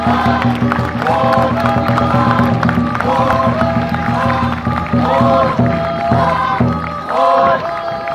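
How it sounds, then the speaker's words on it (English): A festival crowd at the Hornbill Festival in Nagaland in 2018 cheers and applauds after a children's dance performance; a loud, dense wash of clapping and shouting voices, some high and childlike, runs continuously throughout. "Please give them a warm round of applause."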